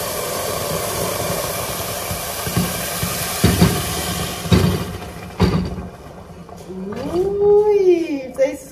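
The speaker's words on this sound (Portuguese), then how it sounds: "eu vou colocar a água. Eu amo esse barulhinho." A broad hiss of water hitting a hot pan, building with sputters and bursts, while a voice talks over it near the end.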